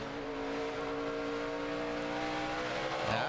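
A pack of NASCAR Cup race cars at Bristol, Kyle Busch and Carl among them, drones in a sustained engine whine at moderate distance, with a rising surge of another car passing near the end.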